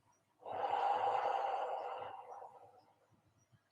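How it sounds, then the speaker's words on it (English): One slow, deep, exaggerated breath drawn in through the nose, a loud airy inhale swelling quickly and then tapering off over about three seconds, close and alone. "Couple of nice, slow, deep, exaggerated breaths in the nose,"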